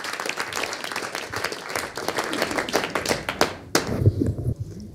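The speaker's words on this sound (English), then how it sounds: "Give the Lord a clap." Applause from a church congregation, many hands clapping in a dense patter that breaks off sharply and gives way to quieter room sound.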